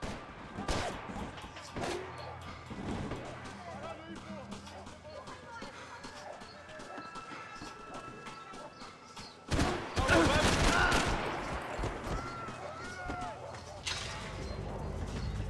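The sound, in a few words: gunfire in Max Payne 3 video game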